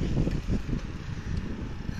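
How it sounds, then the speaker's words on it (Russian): A light breeze blows through a quiet residential courtyard, producing a soft, steady low rumble of wind against the microphone with no voices present. "Хорошо-то, ветерочек дует."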